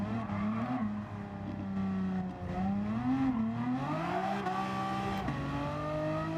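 Renault Megane Gr.4 race car engine in Gran Turismo 7, revving loud and steady with rising and falling pitch through gear changes, close and continuous with no voices.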